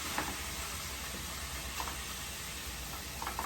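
Shrimp sizzle in a hot honey garlic brown butter sauce, a steady, even hiss that holds without a break.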